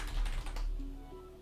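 Rapid typing on a computer keyboard during a coding session, a quick run of close, clicky key presses that thins out toward the end, with no talking.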